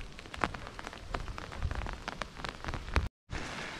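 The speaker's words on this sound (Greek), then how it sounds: "με τη βροχή είμαστε" Rain patters steadily and close by onto a surface, probably an umbrella, with scattered louder drops striking throughout. The sound cuts out briefly near the end before the wash of rain returns.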